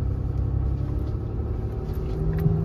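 A 4x4 engine locked in second gear labours up a wet hill, giving a steady low rumble and drone that holds close and continuous throughout with no voices.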